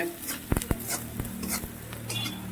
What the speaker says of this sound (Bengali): সব দিয়ে পেঁয়াজটাকে কষিয়ে নেবো ভালো করে